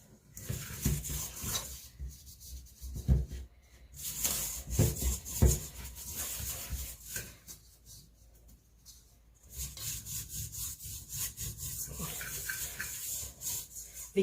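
Hands rub and smooth sticky whole wheat and oat bread dough on a floured surface, producing soft, close scraping and rubbing strokes in irregular bursts, fairly quiet, with no talk.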